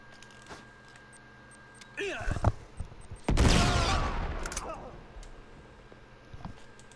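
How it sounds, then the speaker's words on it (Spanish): Machine gun fire in the video game Uncharted 3: a few scattered shots, then a dense, loud burst of rapid gunfire lasting a second or two before fading, with a voice talking at points. "Vamos a ponernos la ametralladora"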